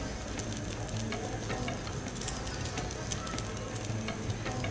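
Puff paratha frying in butter in a hot pan, a steady dense sizzle with crackling pops running throughout, close and even, with no talk over it.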